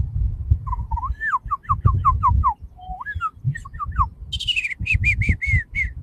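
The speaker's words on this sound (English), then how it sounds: "You can hear the birds, Julia?" Birds chirp and whistle in quick repeated phrases, bright and close, over a low rumble of background noise.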